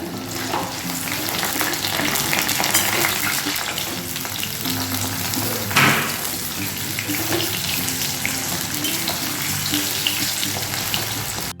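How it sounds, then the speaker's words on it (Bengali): Okra (lady fingers) frying crisp in hot oil over high heat, a loud continuous sizzle and crackle with occasional stirring scrapes, no voices. "একটু ক্রিস্পি করে ভাজবো, আঁচটা একটু বেশি দিয়ে দিচ্ছি। 2-3 মিনিট এতে ভেজে নেব।"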